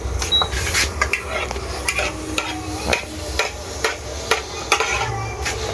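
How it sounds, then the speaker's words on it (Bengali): Luchi deep-frying in oil during household Biswakarma puja preparations, a steady sizzle overlaid with repeated sharp stirring and ladle clinks against the pan, close and fairly loud with no talk. "এই দেখো, দেখো এখানে লুচি ভাজার কাজ চলছে"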